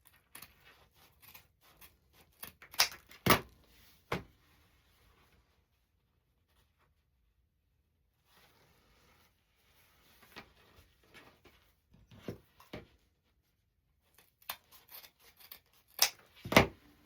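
Scissors snipping through decorative mesh for a spring or summer wreath, sharp, close cuts and rustles in irregular bursts separated by quiet gaps, with no talk.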